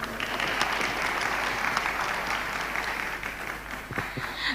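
An audience applauds a speaker at a campus talk on global industry careers, with steady, dense clapping from a crowd held at an even level throughout, with no voices over it.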